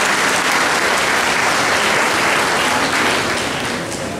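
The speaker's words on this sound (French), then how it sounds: "Applaudissez-les pour nous s'il vous plaît" A large audience gives thick, continuous applause for people asked to stand and be honored, a loud, even wash of clapping that barely fades toward the end.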